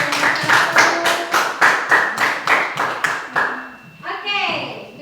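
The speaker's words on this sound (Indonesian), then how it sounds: "Mari tepuk tangan dulu untuk kelompok 1." A classroom group claps for a student group after its teaching-practice presentation at a junior high school, about a dozen sharp, evenly spaced claps in a steady rhythm, close and fairly loud, with a voice speaking briefly at the end.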